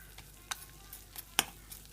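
Peppers and tomato paste sautéing in butter, a quiet continuous sizzle with a couple of sharp clicks of a utensil against the pan.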